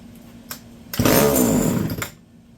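Homelite Super XL chainsaw briefly roars to life, a loud close buzzing burst of about a second after a couple of faint pulls, then cutting out.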